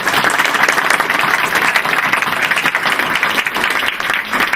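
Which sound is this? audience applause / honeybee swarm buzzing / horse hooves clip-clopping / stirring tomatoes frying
audience applause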